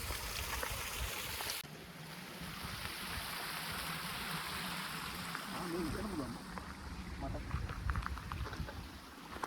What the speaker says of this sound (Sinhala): වතුරු පාරක් තියෙනවා එහෙම.